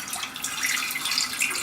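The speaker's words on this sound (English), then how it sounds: "I'm going to pour some water," Water poured into a pan on the stove for steaming a savory rice breakfast dish, a steady broadband splashing stream running continuously and fairly loud throughout.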